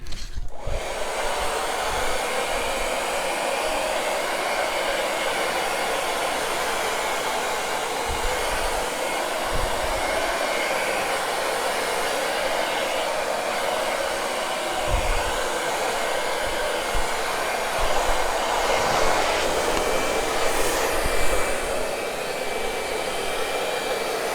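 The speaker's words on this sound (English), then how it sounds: "I'll just use the blower here and move it around just a little bit more." A hair-dryer-style blower pushes air over fresh black paint, giving a loud, constant whooshing roar that holds steady throughout with small shifts as it is moved around, and no voices.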